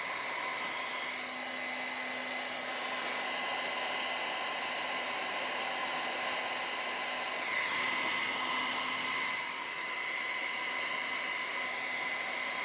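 Blow dryer pushing alcohol ink across a canvas, a continuous whooshing hiss with a steady whine, holding level for several seconds and swelling slightly midway, with no voices.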